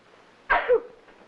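A single sharp sneeze, close and loud, with a quick two-part burst and a short breathy tail, then quiet.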